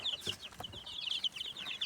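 Chicks peeping in rapid high chirps inside a homemade brooder, a busy cluster of small birds close by, with soft rustling beneath and no talking.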